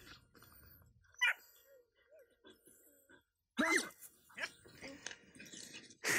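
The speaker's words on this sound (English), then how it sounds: "she sees barking as part of the play" A dog in heel-position play training lets out a few sharp barks in short bursts, loud and close, with quieter whines, panting and faint rustling between them.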